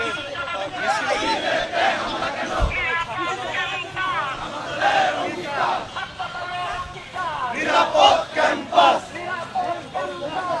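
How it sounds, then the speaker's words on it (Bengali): Student wing activists march in a protest procession at Dhaka University, a dense crowd shouting and chanting in uneven waves, voices overlapping in a loud, continuous babble from near to mid distance. "আপনারা দেখছেন ঢাকা বিশ্ববিদ্যালয়ের ছাত্রদলের বিক্ষোভ মিছিল থেকে সংযুক্ত আছে"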